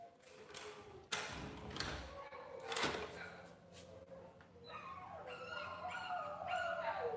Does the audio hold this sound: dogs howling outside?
yes